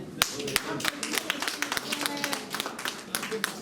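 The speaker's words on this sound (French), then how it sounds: "Accompagnons le ministre par acclamation" Scattered clapping from the audience at a 2022 tree-planting awards ceremony as a prize is handed over by the minister, sharp individual claps standing out over background voices and crowd murmur.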